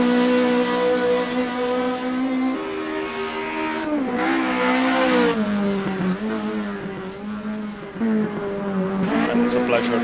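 A rally car on a Kielder Forest stage, its engine revving and shifting continuously as it is thrown through the course, with a voice talking over it.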